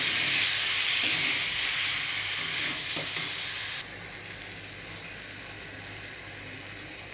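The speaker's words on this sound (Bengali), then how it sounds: "চিকেনটা দিয়েও কিন্তু আমি প্রায় পনেরো থেকে কুড়ি মিনিট কষে কষে কিন্তু রান্নাটা করবো" Chicken pieces sizzling and being stirred in a pan as they are slowly cooked down for a Bengali chicken curry, a loud steady hiss that drops off abruptly partway through, leaving quieter scattered scraping and sizzle.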